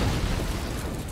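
A magma spray attack effect in a video game, heard as a sustained, dense rumbling burst with crackling pops that stays steady and loud for just over a second, with no talking over it.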